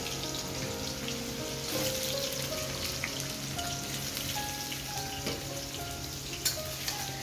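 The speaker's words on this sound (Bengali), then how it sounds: "পরিষ্কার করে নুন হলুদ লাগিয়ে আমি এগুলো ভাজতে বসে দিয়েছি।" Fish coated with salt and turmeric fries in a pan with a steady, dense sizzle and crackle throughout, close and continuous, with occasional small pops and no talking.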